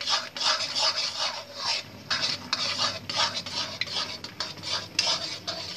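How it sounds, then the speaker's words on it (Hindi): Spoon scraping and stirring halwa in a metal pan, a steady rhythmic rasp of repeated strokes, close and moderately loud with no voices. "इसे हम थोड़ी देर हिलाएंगे तो मेरा हलवा रेडी होगा"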